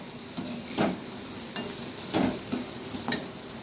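Sambar rice being stirred with salt and chilli powder in a pot, giving a few soft scraping strokes spaced about a second apart over a low, steady background, with no talking.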